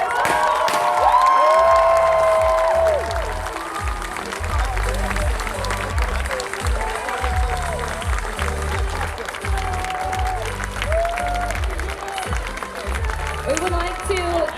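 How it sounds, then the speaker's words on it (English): Audience at a cosplay competition stage event applauds a winner, a dense wash of clapping and cheering that swells loudly at first and then holds steady, with some shouts and voices mixed in. "But please give a warm applause for Toka as Cassia from Arizona."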